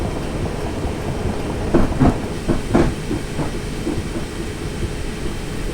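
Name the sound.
train departing in Train Simulator 2018 video game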